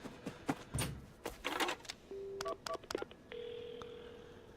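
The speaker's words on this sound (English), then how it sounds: "Right, a phone. I've got to call an ambulance." A telephone keypad in a video game beeps as a number is dialed to call an ambulance: a quick run of distinct tones, then a steady ringing tone on the line, heard alone with no talk.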